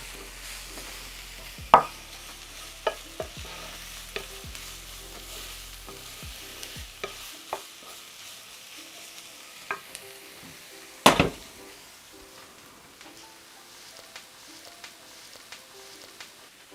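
Onions for a tater tot casserole stir and fry in a pan with a steady sizzle, broken by several sharp utensil clicks and scrapes and one loud clatter partway through, all close by with no talking.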